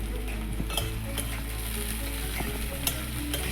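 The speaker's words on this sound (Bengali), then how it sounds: "আলুটা লাল লাল করে ভাজা হয়েছে বা পেঁয়াজটা লঙ্কাটা এর মধ্যে দিয়ে দিচ্ছি" Potatoes frying with onion and chili in a pan, a continuous close hiss of oil with scattered utensil scrapes and light knocks, no voices.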